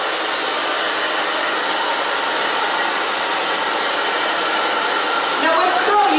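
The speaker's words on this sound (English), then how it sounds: "now we're going to blow dry" A hair dryer blows steadily and loudly on a chunky bob hairstyle, a constant broadband whoosh that holds unbroken for several seconds with no talking over it.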